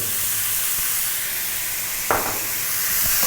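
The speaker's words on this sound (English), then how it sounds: "We really want to cook these tomatoes down, get them to a nice kind of mush." Chopped tomatoes fry in a pan, giving a steady, loud sizzling hiss throughout, with a brief scrape of stirring near the end.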